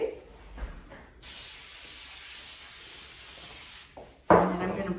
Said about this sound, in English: I am gonna give it a good spray